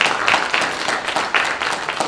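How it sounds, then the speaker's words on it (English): A round of applause for high school students at an alumni hall of fame event, dense steady clapping from an audience filling the short moment at close range. "let's give them another round of applause"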